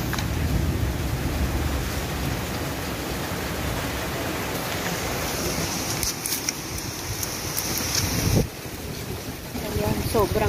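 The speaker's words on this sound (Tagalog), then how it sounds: "Ayan, sobrang lakas po ng ulan." Very heavy rain pours down near a hut while a strong torrent of water rushes down from the mountain, a dense, steady roar that stays loud throughout, briefly dipping near the end.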